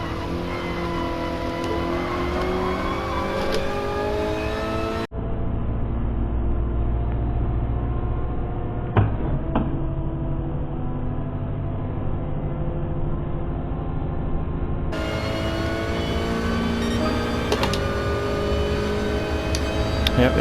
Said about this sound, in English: there's a car back there that's just doing wheelies or got hydraulics going or whatever in the pit